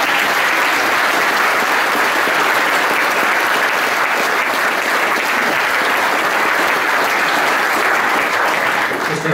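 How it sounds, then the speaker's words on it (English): Loud, sustained applause from a school audience at a senior prize giving ceremony fills the hall, dense steady clapping that carries without a break. "I think we'll clap you now, Gloria, as well."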